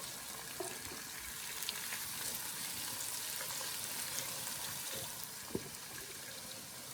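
Garlic sautéing in a pan while a wooden spoon stirs it, a steady bright frying hiss with faint soft knocks and shuffles of the spoon, continuous and fairly quiet.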